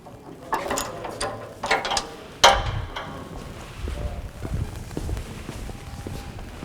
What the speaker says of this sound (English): Once at the set height, you can lock off your chains.